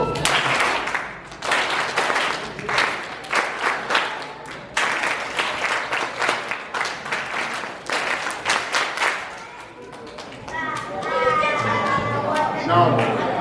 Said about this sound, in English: let's see you clap that.